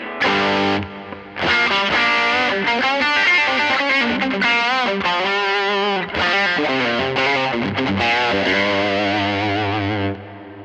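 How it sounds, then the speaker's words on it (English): Electric guitar played through a Line 6 Helix modulated reverb, a run of sustained chords and melodic notes with shimmering, wavering tails, loud and continuous, ending with a decaying wash and no talking. "Just gives you a really nice reverb that you can use as well."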